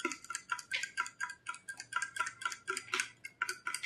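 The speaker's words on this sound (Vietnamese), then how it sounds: "Mình sẽ khuấy đều cả hai ly." A spoon stirs vitamin C drinks in two glasses, making a steady run of bright, rhythmic clinks against the glass, close and fairly loud, with no talking over it.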